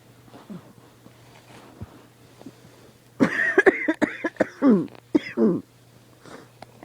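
Someone coughs and clears their throat in a burst of harsh, close coughs, roughly eight or nine in quick succession, while working in a dusty pottery studio, with a quiet room and a steady low hum before the fit begins.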